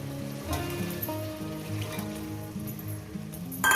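Lote fish sautés in a pan with green chilli, tomato and eggplant, a steady close sizzle under low repeating tones from background music.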